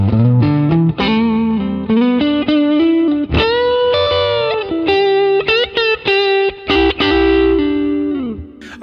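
An electric guitar on its neck humbucker plays through a ToneX 65 Deluxe Reverb clean amp model, giving sustained, ringing melodic notes and chords with brief pauses, loud and alone.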